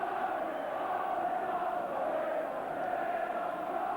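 Large football crowd of nearly 28,000 at a Liverpool v Tottenham Hotspur FA Cup match on Merseyside on a dreadful day, a steady distant roar of massed voices holding evenly throughout with no commentary over it.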